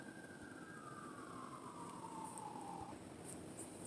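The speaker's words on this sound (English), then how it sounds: "Hold on, let me, because these sirens are coming." A siren wails at a distance, its tone sliding steadily downward over a few seconds against low background rumble.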